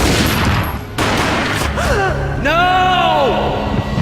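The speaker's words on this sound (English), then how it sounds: "A gunshot boomed and she fell down in slow motion." A single booming gunshot in Max Payne, a sharp burst near the one-second mark, followed by swooping whooshing slow-motion effects and a gasp-like vocal sound.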